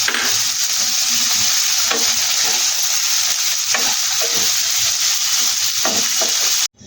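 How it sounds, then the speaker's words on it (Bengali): Cashews frying in refined oil in a karahi for chicken changezi, a steady loud sizzle with stirring scrapes throughout, no talk, ending in a brief cutoff. "কাজুটা এর মধ্যে সাথে ভেজে নেব"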